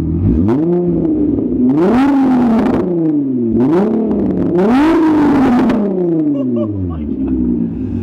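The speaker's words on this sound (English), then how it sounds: "But listen how loud this car is when it's echoing right against this wall." A Volkswagen car engine revs loud and close in a series of rising and falling blips, the sound echoing hard off a nearby wall, with brief talk mixed in.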